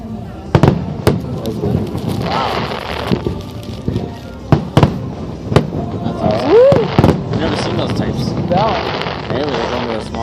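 Fireworks bursting over the water at the Celebration of Lights in Vancouver, a series of sharp booms and crackles, some near and loud, with people talking and exclaiming throughout.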